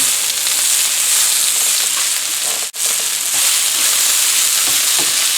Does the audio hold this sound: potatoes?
yes